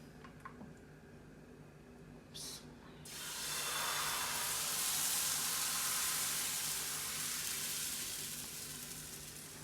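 Pancake batter hits a heated new pan after a few quiet clicks and a brief spray, then a broad sizzle swells and holds steady, slowly fading a little, with no talking.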